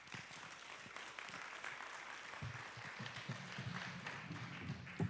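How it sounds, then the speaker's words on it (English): An audience claps steadily for a panel at the close of a talk on due process, the applause sounding fairly distant and soft with no voices over it. "Please, another round of applause for all of them."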